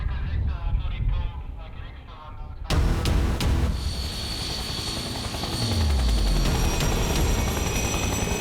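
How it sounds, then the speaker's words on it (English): Loud, steady rotor chop and turbine whine of a helicopter aboard an Arctic icebreaker, close and continuous, its pitch shifting slightly as it runs. "the icebreaker carries a helicopter, and one of its functions is to look for polar bears"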